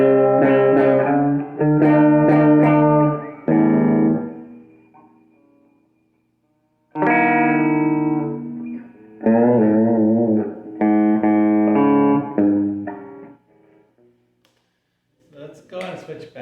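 A humbucker-equipped electric guitar played through an old First Act M2A-15 amplifier with adjustable gain: loud chords and sustained notes ring out in bursts, some decaying to silence, with a short pause before a faint final strum.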